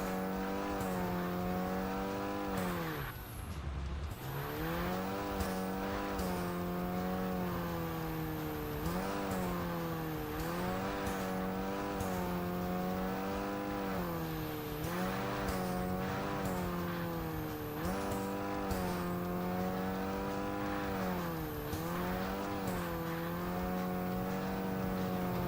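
Toyota Supra racing at high speed in an underground street-racing game without nitrous: a loud, steady engine drone with rising and falling revs at each gear change, continuous and close for the full stretch, with no talking.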